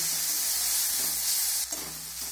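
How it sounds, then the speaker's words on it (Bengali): Ground turmeric and chili powder with ginger and garlic frying in a pan, a steady bright sizzle close up with a brief stir scrape partway through. "এখন সব কিছু আমি নাড়াচাড়া করে সুন্দরভাবে কষিয়ে নেব।"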